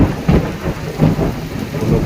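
Heavy rain pours steadily in Cebu while low thunder rumbles roll in waves beneath it, loud and close, with no voices.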